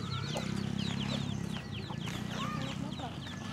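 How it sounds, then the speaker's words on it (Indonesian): Chickens cluck and chirp repeatedly at moderate distance outdoors by the flooded Jatiluhur reservoir in Purwakarta, Indonesia, over a steady low rumble. "Ayam."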